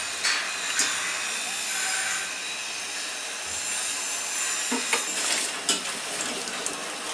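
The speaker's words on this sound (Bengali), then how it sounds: "এখন বাকিগুলাকেও ভেজে আপনাদের আমি দেখাচ্ছি" Singara pastries deep-frying in oil at a Bangladeshi street food stall, a loud, steady hissing sizzle throughout with a few brief clanks and faint murmur.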